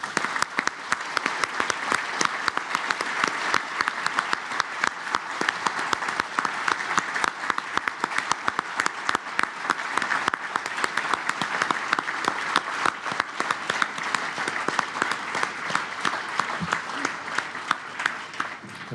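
Audience applause at a summit: a dense, loud, continuous clapping from a large crowd that runs steadily for the full span without letting up.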